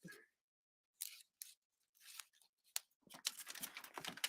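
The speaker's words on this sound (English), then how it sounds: "Let's just trim this ribbon off." Scissors snip through ribbon while a greeting card is assembled, a few quiet separate cuts and rustles spread out, then a denser run of crisp snipping and crinkling toward the end.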